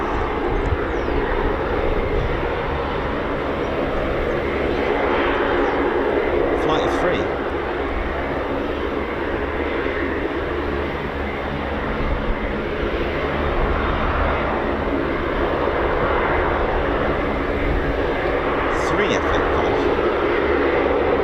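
F-35 jet on a low approach flyover at RAF Mildenhall: a loud, steady, broad roar filling the whole stretch, with people talking faintly beneath it.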